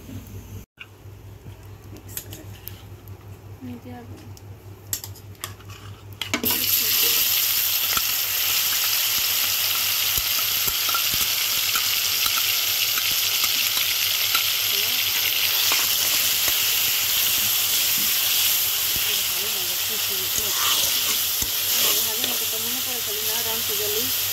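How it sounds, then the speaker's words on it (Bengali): Marinated chicken for fried rice fries in hot oil. After about six seconds of quieter clattering, a loud, dense sizzle bursts in and holds steady, close by, for the rest of the stretch. "আমার বোন এখানে চিকেন ম্যারিনেট করে রেখেছে, এখন এটা ফ্রাই করা হবে।"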